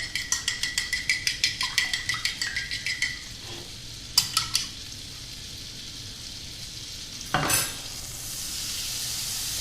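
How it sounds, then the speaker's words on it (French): Butter melting in a frying pan, a quiet even sizzle underneath a quick run of rhythmic metallic clinks from whisking in a bowl, then a few scattered clatters of utensils, with no one speaking. "Mon beurre est en train de fondre dans ma poêle. Ça commence à chanter."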